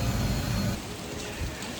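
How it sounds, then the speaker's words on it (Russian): Warm rain falls outdoors in Hangzhou, China, a steady broadband hiss of drops with a heavier low rumble of traffic or splashing over the first stretch, then a softer even patter. "Так, ну все, идет дождь."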